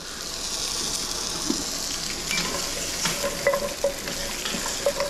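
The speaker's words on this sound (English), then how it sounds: "I won't bore you with the browning here, but I'm going to let these get nice and brown." Onion, carrot, celery, cremini mushrooms and whole garlic cloves brown in a pot for beef stew, a steady close sizzle with occasional stirring scrapes and no talk.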